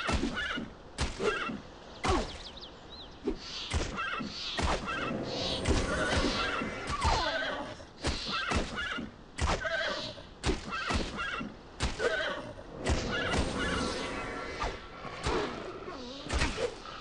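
Repeated horse neighs and whinnies from the video game The Bard's Tale ring out among thumps and clip-clop-like knocks, fairly loud and close, with busy game effects around them.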